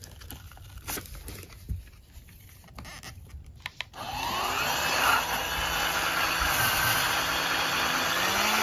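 A kHelfer electric spin scrubber cleaning brush clicks through its button settings, then its motor starts and runs steadily at turbo speed with a close, continuous whirring hum.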